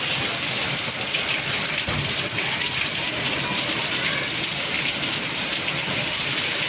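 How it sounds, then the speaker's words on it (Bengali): Heavy nighttime rain pouring down and splashing onto a floor, a loud, dense, unbroken roar of falling water throughout. "এত শব্দ হচ্ছে জলের এই মানে মেঝেতে পড়ছে জল"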